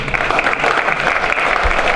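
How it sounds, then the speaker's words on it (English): Applause at a community talk on returned citizens and self-sufficiency, a steady dense patter of many clapping hands filling the short stretch, loud and continuous. "let's get this business a round of applause"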